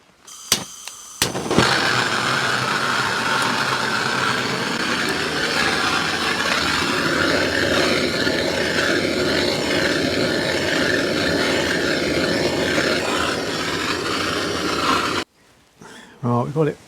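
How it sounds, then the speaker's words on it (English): A blowtorch roars steadily as it heats a seized clutch part from a Scott Flying Squirrel motorcycle, a loud continuous rushing hiss. A few sharp clicks come before it starts, and it cuts off near the end. "So I've been running a blowtorch around to keep it even"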